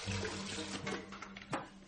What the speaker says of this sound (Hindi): पानी फेंक दो।